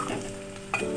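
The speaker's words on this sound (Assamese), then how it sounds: "ইফালে মোৰ পিঁয়াজ ভজা হৈ গৈছে, অকণমান আদা নহৰু বটা দিছোঁ মই। এইখিনি ভাজি ল'ম পিঁয়াজৰ লগতে।" Onions fry with ginger-garlic paste in a pan, giving a steady sizzle with scraping stirring sounds and a brief louder scrape near the end.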